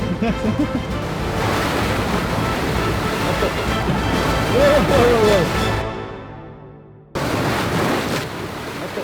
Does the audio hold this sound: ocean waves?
yes